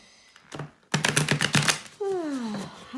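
Tarot cards shuffled by hand for a pick-a-card reading, giving a rapid run of crisp riffling clicks and flutters at close range, followed by a brief whistling tone as the shuffle ends.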